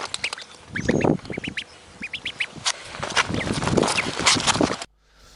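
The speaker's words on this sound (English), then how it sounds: "You can make clicky noises like that that sound like a sharp duck." A guitar played through a Boss Waza Craft pedal makes sharp, clicky, duck-like quacking tones in quick bursts over a sustained ambient wash, then cuts off abruptly near the end.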